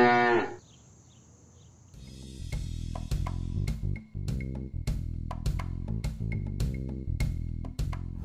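A cartoon cow moos in a children's animated farm show, a long low moo standing alone before bouncy background music with plucked notes takes over.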